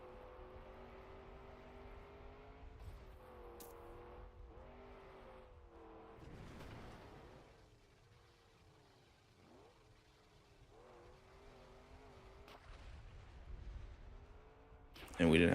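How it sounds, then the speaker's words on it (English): The American car in the Trackmania racing game drives with an engine tone that rises and falls through gear shifts and dips, accompanied by tire noise, a steady mid-level drone ending in a loud burst. "it's the American car."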